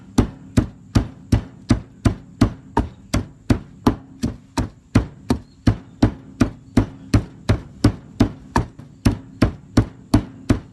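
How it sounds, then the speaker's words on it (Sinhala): Spices including cinnamon bark, curry leaves, cardamom and clove stems pounded for a homemade crab curry, a steady run of about two dozen sharp, evenly spaced thuds, close and loud, with no talking. "ඒ ටිකත් තලා ගන්නවා"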